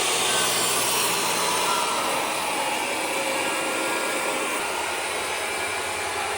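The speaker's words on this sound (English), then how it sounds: "I pretty much split the board into thirds, and I made a kerf there and a kerf there" A power saw cuts kerfs into a wooden mantle board, giving a continuous loud whining, rasping roar that holds steady for several seconds with no speech.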